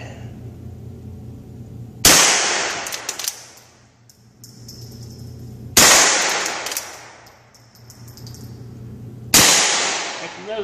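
A Henry rifle fires three loud, sharp shots downrange, spaced about three and a half seconds apart. Each crack is followed by a long decaying echo, with some faint background noise between the shots.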